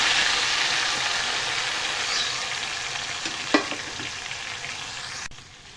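Tomato paste sizzles in hot oil for a spicy brinjal curry, a loud continuous frying hiss close by with one sharp utensil knock midway, easing off and cutting quieter just before the end, no voices.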